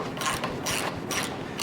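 A ratchet clicks in quick rhythmic bursts while turning rusty bolts with crusty threads, loud and close with no voices.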